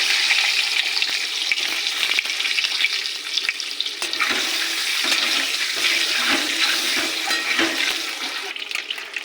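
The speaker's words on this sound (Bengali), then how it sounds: "ডিমটাকে ভেজে নেব।" Eggs frying in hot oil in a kadai, seasoned with salt and turmeric for a potato and egg curry, give a steady, close, crackling sizzle that runs unbroken from start to finish with no one talking.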